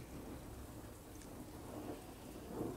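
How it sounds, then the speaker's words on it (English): Rain in the Plague M.D. video game, a soft continuous hiss with low rumbling underneath, faint and steady with no talk. "And it's raining."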